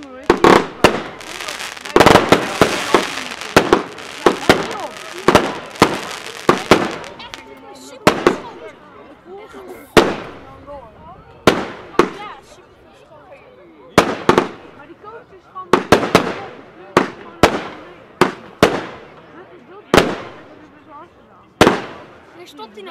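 The Cafferata Perfect Four fireworks barrage goes off in a string of loud, sharp bursts and cracks, some fast and rapid at first and then spaced out every second or two, each ringing and fading into a hiss.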